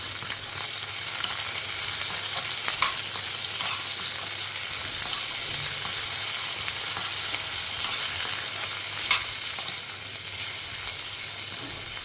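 Tomato sautés in a pan with a steady, even sizzle and occasional soft stirring clicks, close-up and unbroken by talk.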